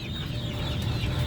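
A broiler chicken clucks and fusses while it is caught on a farm, close by, with a steady low rumble and rustling underneath and no talk.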